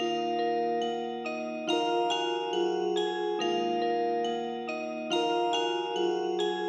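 A sustained, smooth flute-like melody moves through a series of held notes, washed in shimmering chorus and reverb, fairly soft and continuous.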